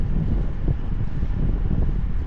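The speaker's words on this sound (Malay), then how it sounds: "Berangin jadi tak berapa panas lah." Wind rushes outdoors at night as a steady low rumbling buffet against the microphone, loud and continuous, with no voices.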